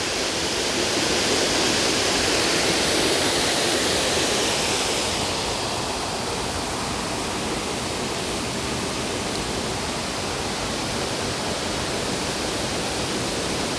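Waterfall in the Fairy Glen at Rosemarkie, heard as a steady, loud broadband rush of falling water that stays constant throughout, a little brighter in the first few seconds, with no voices.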